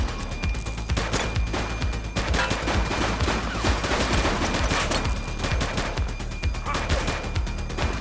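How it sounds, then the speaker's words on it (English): Gunfire in the police video game The Precinct, a dense, sustained fusillade of rapid shots and bursts crackling throughout, with shouted voices faintly under it. "He's shooting!"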